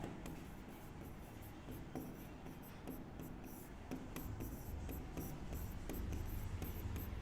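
Chalk or marker scratching across a board during a Hindi-medium class 10 maths lesson on HCF and LCM, a continuous close rasp with short taps and strokes over a low room hum.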